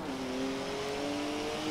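A race car in the Forza Horizon 4 racing game drifting with its tail out through a corner exit, its engine holding a steady, sustained revving drone at moderate level throughout, with no voices.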